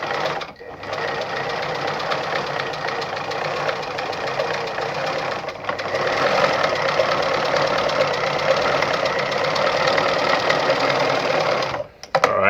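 Brother ZU2-B680 sewing machine running a zigzag stitch, a loud, continuous mechanical whirr with rapid needle clatter for about twelve seconds, with brief pauses near the start and end.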